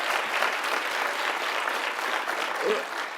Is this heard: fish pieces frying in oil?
no